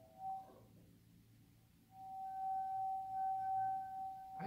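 A wet fingertip circles the rim of a water-filled glass, drawing out a clear, sustained ringing tone that swells and holds steady, a single pure pitch with a faint higher overtone, close and alone.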